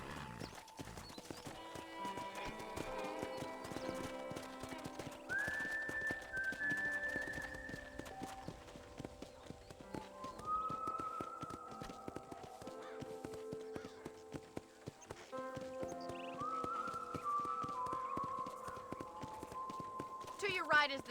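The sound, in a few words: horse hooves clip-clopping while riding, Red Dead Redemption video game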